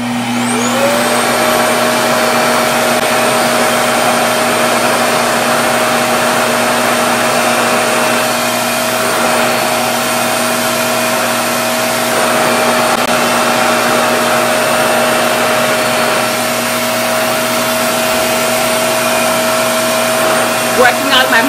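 A RevAir hair blow dryer runs continuously at close range, a loud, steady whine with a sustained high tone holding level from start to finish, drying natural hair indoors.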